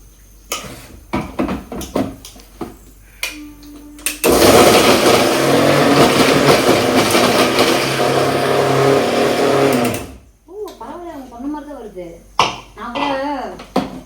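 A mixer grinder jar whirs loudly for about six seconds while grinding bread pieces for cheese balls, starting abruptly and cutting off. Clatter comes before it, and speech follows after.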